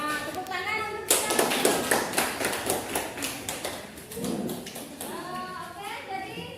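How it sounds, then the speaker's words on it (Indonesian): Classroom applause after a student group presentation, a burst of clapping from children that sets in sharply and tapers off with rhythmic claps, while children's voices and chatter are heard before and after it. "Tepuk tangan untuk kita"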